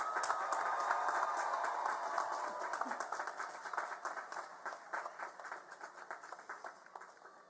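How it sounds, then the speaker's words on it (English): Applause from a crowd at an Elizabethtown College commencement ceremony for master's degree graduates, a soft, distant patter that tapers off gradually, with a faint voice in the hall. "Please let us have another round of applause for our master's degree graduates."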